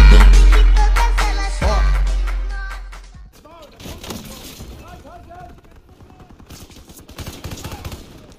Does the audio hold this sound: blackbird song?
no